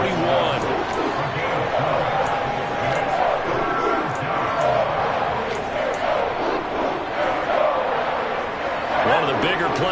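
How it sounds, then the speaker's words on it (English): A stadium crowd in Madden 23 swells and roars ahead of a big third down in a Chargers football game. The broad, continuous cheer runs throughout with game sounds mixed in. "The crowd getting into it as we come up on a big 3rd down."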